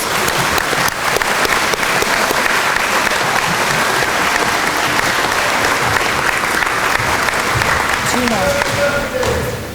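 A school awards night audience gives students a round of applause, loud sustained clapping that holds steady for several seconds, with occasional thumps and some voices mixed in near the end.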